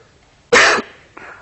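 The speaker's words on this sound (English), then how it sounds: "I've got a bit of a cough today" A lecturer gives a single sharp cough, followed by a softer second catch of the throat, close and loud against an otherwise quiet room.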